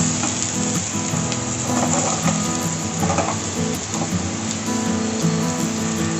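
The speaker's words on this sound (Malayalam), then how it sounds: "ഇനി ഇതിലോട്ട് അരിഞ്ഞു വെച്ചേക്കുന്ന ഉരുളക്കിഴങ്ങ് ഇട്ട് കൊടുക്കാം." Chopped potatoes go into a hot pan with green chillies for a Kerala beef stew, giving a steady close sizzle with occasional soft stirring scrapes and no talk.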